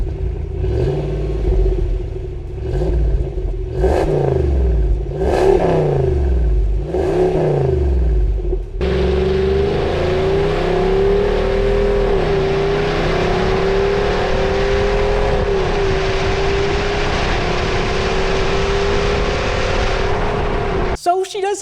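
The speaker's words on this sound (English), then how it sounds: "I did take a couple of clips, sound clips with the stock exhaust system on it" A Ram 2500 with a 6.4L HEMI on its stock exhaust: several quick, deep revs rising and falling, followed by a sustained rumbling drone that swells gently, close and loud.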